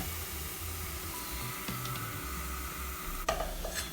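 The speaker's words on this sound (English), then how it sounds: "So our tomato puree's had a minute cooking out in there gently." A teaspoon of tomato puree cooks gently in a pan for a Quorn enchilada filling, giving a quiet low sizzle with a few soft scrapes and a sharper clink as it is stirred.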